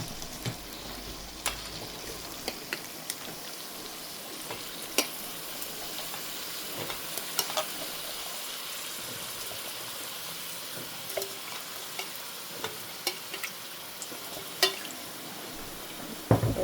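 Brinjal pieces fry and get stirred in a pan for a dry prawn curry, giving a steady soft sizzle with frequent sharp clicks and scrapes of the spoon throughout.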